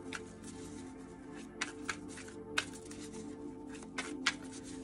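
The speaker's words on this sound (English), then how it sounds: "Let me get one more shuffle." Tarot cards are shuffled close by in soft, repeated riffling bursts, with several sharper snaps of the deck over quiet room tone.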